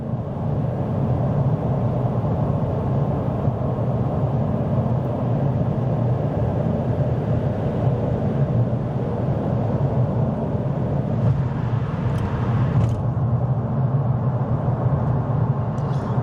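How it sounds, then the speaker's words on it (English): A steady, loud broadband rumble of highway traffic with a truck speeding past at over 70, a continuous roar and tyre noise heard from inside a nearby vehicle, with no talking. "This truck is going faster than 70. That's coming up to me on the left."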